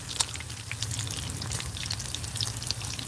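Trout frying in oil in a skillet, a dense crackling sizzle full of rapid popping spatters that stays steady and close throughout, with a low hum underneath and no one speaking.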